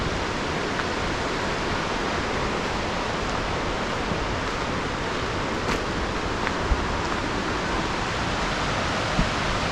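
A waterfall along NC Scenic Byway 64 rushes in a steady, broad hiss of falling water. It stays constant and moderately loud, with a few faint clicks.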